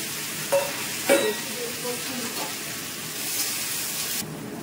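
A vegetable curry fries in a pan with a steady low sizzle, broken by a few sharp clinks of stirring near the start, then the sizzle fades to near quiet at the end.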